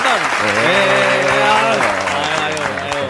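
A studio audience at a comedy talk show applauds in a dense, steady wash of clapping that holds for about three seconds, with voices calling out over it.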